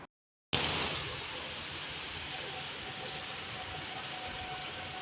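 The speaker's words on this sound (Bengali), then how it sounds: "এই যে বিকেলে হচ্ছে জোর বৃষ্টি আমাদের এখানে" Heavy afternoon rain falls steadily and close by, a dense even hiss that starts abruptly after a brief silence and keeps going without a break.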